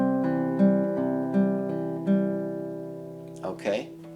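On acoustic guitar, the first measure of a song is fingerpicked as clear sustained plucked notes in an even pattern. Near the end, a brief voice breaks in over the ringing strings.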